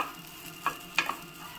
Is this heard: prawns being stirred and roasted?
yes